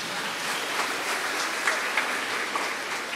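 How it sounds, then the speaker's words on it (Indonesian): A church congregation at a Sunday Easter vocations Mass gives a soft, diffuse round of applause, a steady hiss of many distant hands with a few sharper claps, continuous and fairly even throughout. "tepuk tangan untuk kita semua"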